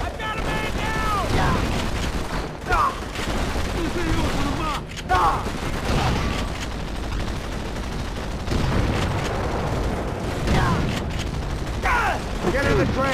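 Rapid gunfire and machine-gun bursts in Call of Duty: World at War, with repeated sharp shots and rattling volleys amid battlefield noise, mixed with shouted voices.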